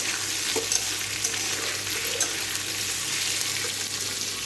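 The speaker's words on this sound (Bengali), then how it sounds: "এখন আর একটু সবজি ভাজা হতে হতে পেঁয়াজগুলো ভাজা হয়ে যাবে" Onion and vegetables keep frying in a pan for a thin fish curry, producing a constant close sizzle with light crackles and a few soft stirring knocks.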